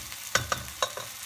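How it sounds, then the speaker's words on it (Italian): Potato pieces browning in a pan for pasta with potatoes and provola give a soft sizzle, broken by a few sharp scraping or stirring clatters, close by and without talk. "Facciamo imbiondire le patate."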